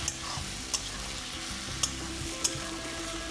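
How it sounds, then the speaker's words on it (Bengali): Onions fry in an uncovered pan with a constant close sizzle, while a utensil stirs them and clicks sharply against the pan three or four times, with nobody speaking. "এবারে ঢাকনা খুলেই ভাজবে পেঁয়াজটা ভাজতে ভাজতে বাদামি হবে"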